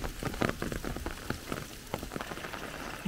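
Rain falling on surfaces during strong winds in Andalusia, near greenhouses and temporary structures: a dense, crackling patter of drops close by with irregular louder splashes, steady throughout and without voices.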